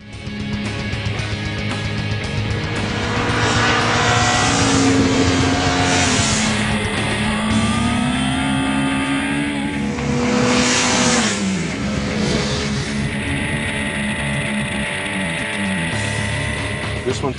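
Japanese liter superbikes, a Honda CBR1000RR, Kawasaki ZX-10R, Suzuki GSX-R1000 and Yamaha YZF-R1, ridden on a twisty road, with a loud, steady engine drone and rising and falling revs throughout.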